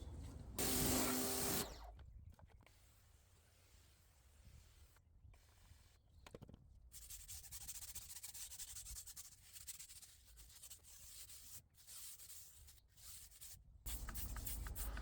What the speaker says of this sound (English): I'm going to scrub it and then rinse it off and scrub it again.